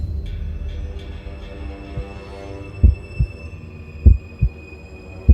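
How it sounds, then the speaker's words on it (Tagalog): A heartbeat sound effect thumps low and heavy in paired beats over a droning hum within a Tagalog horror story, the beats growing more prominent partway through, with no voices. "Biglang bumilis ang tibok ng puso ko."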